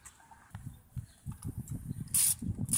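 Socket wrench breaking loose the oil drain plug on a 2012 Ford Focus, a quiet, close run of low ratcheting clicks and creaks with a couple of sharper metallic clacks near the end.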